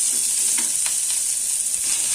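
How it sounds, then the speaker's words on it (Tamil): Onion and garlic sautéing in a pan for curry leaf thuvayal give a steady, close sizzle with a few soft stirring scrapes and no voices. "வெங்காயம் பூண்டு வதங்கட்டும்."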